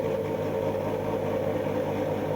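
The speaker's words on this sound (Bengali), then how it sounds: "এটা হলো ইন্টারলক মেশিন।" A five-thread interlock sewing machine runs with a steady, even motor hum, close and moderately quiet throughout, with no talking.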